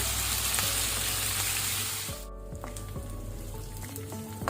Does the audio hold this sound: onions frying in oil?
yes